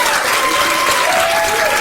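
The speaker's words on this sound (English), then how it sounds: "I want you to just practice now the applause" An audience at an improv comedy show in a church hall gives a practice round of applause: steady, dense clapping that fills the whole stretch at even loudness, with no talking over it.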